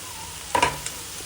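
Curry leaves and potatoes fry in a pan, a soft steady sizzle with a brief louder crackling burst in the middle as they are added and stirred.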